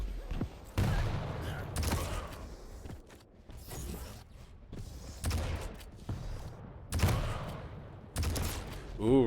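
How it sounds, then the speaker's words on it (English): Railgun shots in an arena shooter duel, several sharp loud cracks spaced a few seconds apart, mixed with other gunfire and movement noise, while a commentator talks over the action. "Knight does not connect his rail shot"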